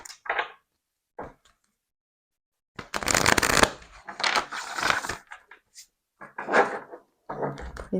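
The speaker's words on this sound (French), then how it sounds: "On va prendre une petite carte de vos anges gardiens." Tarot cards shuffled and drawn in bursts of riffling and flicking, close and crisp, separated by short pauses of quiet.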